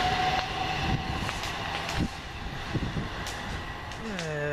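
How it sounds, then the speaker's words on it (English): A Class 377 Southern Railway electric train departs London Road station in Brighton, rumbling steadily and close with rising motor whine near the end and a few sharp clanks along the way. "377120 leaves with the 11:42 Southern Railway service again"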